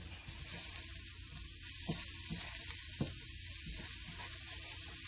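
Pork chops sizzling in a frying pan, a steady close hiss of frying with a few soft scraping knocks as the meat is stirred and moved around.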